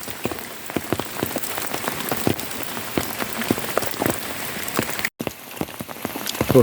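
Steady rain pours down outdoors, a dense close hiss of drops with sharp individual splats scattered through it, no voices, holding at a fairly loud level throughout.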